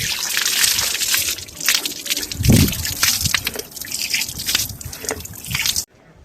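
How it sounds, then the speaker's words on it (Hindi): Water from a public tap beside a Himalayan temple in Lahaul, Himachal, runs in a steady close splashing stream for about six seconds, with one heavier gush midway, then cuts off abruptly. "यहाँ पे पानी का नलका है जहाँ से लोग पानी भी पीते हैं।"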